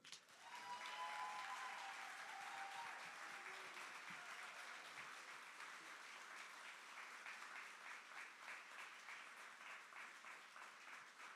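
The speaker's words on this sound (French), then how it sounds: "Et c'est sous les applaudissements qu'elle fait son approche tranquillement." Sustained applause from a gala audience greeting a literary award recipient, dense and steady for the whole stretch, with a few faint voices underneath.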